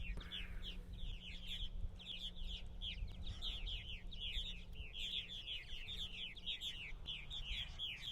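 Many purple martins chirp and chatter at dusk around their housing in a busy, continuous chorus, steady throughout, with a low rumble of background noise underneath.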